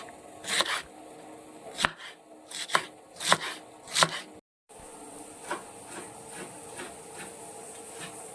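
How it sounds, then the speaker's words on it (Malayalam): A knife chops beans finely on a cutting board, sharp distinct knocks in an uneven run of about eight strokes, then a brief pause and softer, quicker taps close by. "ഇതെല്ലാം നമ്മളിത് ചെറുതാക്കി അരിഞ്ഞുകൊണ്ടിരിക്കുവാണ്"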